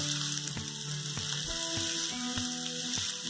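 Vegetables for Mumbai-style pav bhaji fry in a pan with a steady, close sizzle that runs for a few seconds beneath sustained tonal background music.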